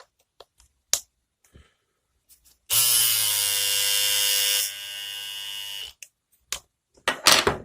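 A Bevel hair trimmer fitted with V2 blades starts with a click and runs for about three seconds as a loud, steady, high-pitched electric buzz, then drops to a lower hum. Sharp clicks and taps come before and after the buzz.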